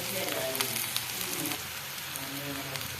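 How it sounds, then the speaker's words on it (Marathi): Spices fry in hot oil for a chana dish, making a continuous crackling sizzle with small pops, fairly quiet and steady throughout. "मसाले छान तेलात परतून घ्यायचे।"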